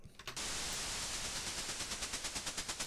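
Synthesized white noise shaped by a transient envelope for a car engine sound in a game, beginning as a steady hiss and then pulsing in fast, even throbs with a choppy, helicopter-like flutter.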